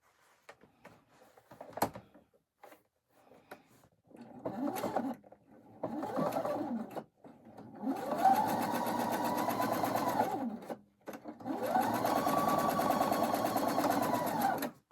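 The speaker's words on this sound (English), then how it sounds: "We're going to take them to our machine, and we're going to sew 1/4 of an inch." A sewing machine stitches quilt pieces for a quilt top with a quarter-inch seam, running in short bursts, then two longer steady runs, close and clear, with no talking.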